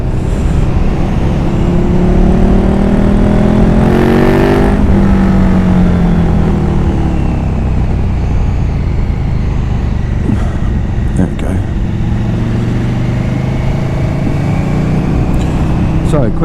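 A KTM Super Duke Gen2 motorcycle accelerating on a motorway with a quick shifter, engine pitch rising and dropping through gear changes under heavy, constant wind roar, with a person talking over it.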